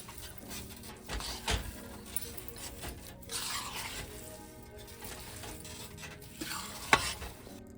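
Green moong dal roasts with black pepper and dry ginger for a pinni sweet, giving a low, dry sizzle under repeated scraping and stirring strokes, with a sharper clink near the end.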